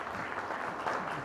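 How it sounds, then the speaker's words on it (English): A town hall meeting audience applauds briefly, a short burst of scattered clapping at moderate volume. "let's give him a round of applause"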